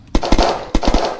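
Gunfire in the video game Unturned: two quick bursts of two or three sharp, loud shots each, close and punchy, separated by a short pause, with no talking.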